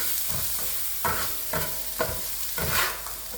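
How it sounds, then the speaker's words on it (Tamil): Onions lightly sautéing in a pan for mutton kothu, four or five distinct stirring scrapes over a soft steady sizzle, close by with no talking. "நல்லா வெங்காயம் வந்து நல்லா வதங்கக்கூடாது ஒரு லைட்டாக தான் வதங்கணும்"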